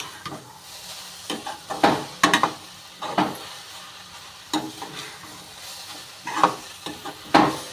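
A spoon stirs carrot poriyal frying in a pan, a steady soft sizzle under repeated scraping strokes that come in irregular bursts every second or so, close and fairly quiet, with no talking.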